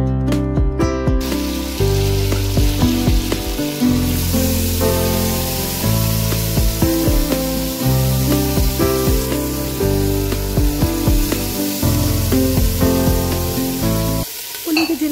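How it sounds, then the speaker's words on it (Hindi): Meat and vegetables frying in a pot, a steady crackling sizzle with scattered sharp pops and stirring clatter, loud and close, running under background music for the whole stretch. "गोश्त को अच्छे तरीके से फ्राई कर लेना है और ये सारी की सारी वेजिटेबल्स जो है ना वो मैंने इसके अंदर डाल देनी है"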